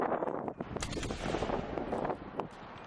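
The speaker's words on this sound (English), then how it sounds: "You can hear what it sounds like gunfire too." U.S. Army gunfire in combat footage, apparently in Afghanistan, with tracer rounds: a dense, continuous barrage of sharp cracks and rumbling bursts over wind noise, steady and moderately loud throughout.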